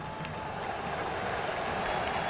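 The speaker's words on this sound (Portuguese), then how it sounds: "O torcedor aplaude a ação ofensiva do Grêmio." A big stadium crowd applauds a Grêmio attack during a Brazilian league football match, a dense, steady wash of clapping and crowd noise heard from a distance, with faint commentary underneath.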